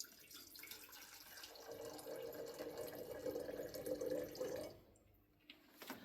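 Liquid is poured into a glass mason jar marked in cup measures, producing a steady close trickling splash that swells for about three seconds and then stops abruptly, quiet overall with no voices.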